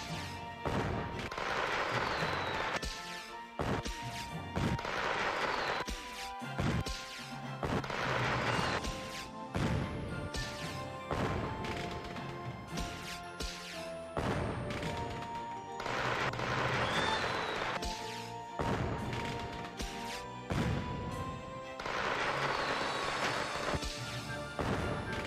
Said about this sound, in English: Please turn your optical organs to the sky for Gandalf's fireworks fantasia.